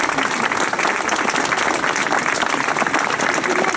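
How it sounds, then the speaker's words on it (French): Dense, steady applause from an outdoor audience at the inauguration of the fountain on Place Saint-Gervais in Avranches, sustained loudly and evenly throughout without pause. "Et d'ailleurs, à l'occasion, vous pouvez les applaudir."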